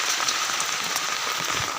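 Heavy rain falls during flooding around a house, a dense, steady hiss of drops pouring down without pause and without talk.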